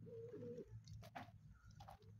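Van pigeons outdoors give soft, low, throaty coos in a short rolling phrase, followed by a few faint chirps and rustles, quiet and fairly close with no talking.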